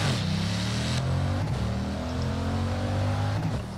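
Classic car engine roaring on a drag strip in the Forza racing game, loud and sustained with rising revs through gear changes, filling the whole moment with no talking.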